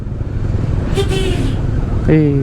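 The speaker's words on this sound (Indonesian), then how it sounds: "Suara remnya Hino RK8 banget." Amid steady traffic rumble, a Hino RK8 bus brake lets out a squeal and then a sharper hiss-squeal near the end, with faint voices around, at a red light heading into Solo, Surakarta.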